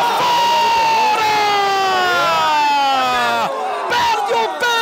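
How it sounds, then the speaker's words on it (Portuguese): A football crowd at a cup final penalty shootout erupts in loud sustained cheering and chanting after a missed penalty, with high whistling tones rising and falling over the roar throughout. "Perde o pênalti Henrique para delírio da torcida do Raios e Trovoadas."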